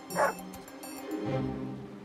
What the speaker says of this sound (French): Il y a un autre chien coincé au milieu de la rivière.